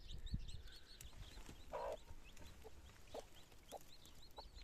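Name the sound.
chickens clucking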